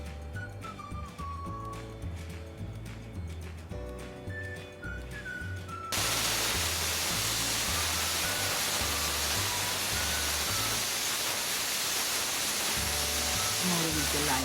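A pressure cooker steaming vegetables for Uttara Karnataka Sankranti bartha: after six seconds a loud, steady broadband hiss of venting steam starts and holds to the end, over a layer of music.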